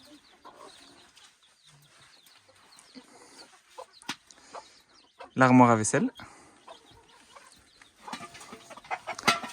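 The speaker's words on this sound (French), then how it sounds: "Pardon les poussins, je passe." Chicks cheep and peep in a courtyard of a house in Guinea-Bissau, with a louder burst of bird calls near the middle while someone talks and walks through.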